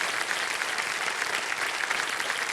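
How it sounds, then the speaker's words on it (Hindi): A studio audience on the quiz show Kaun Banega Crorepati applauds a contestant who has just won two lakh rupees, a dense, even wash of many hands clapping with no speech over it. "तालियां बज जाएं इनके लिए।"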